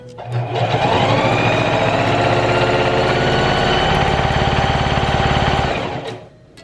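A sewing machine runs a straight stitch through tulle ribbon trim, a fast, even mechanical whir that starts up, holds steady for about five seconds close by, then winds down.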